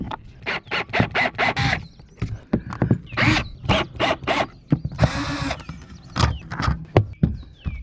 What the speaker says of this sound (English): I've got this turned this way so that we can remove all of these screws.